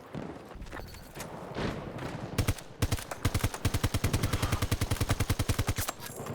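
Rapid gunfire from the RM68 rifle in the video game Battlefield 2042. After a couple of seconds of quieter game noise, loud, evenly spaced shots ring out in sustained automatic bursts to the end.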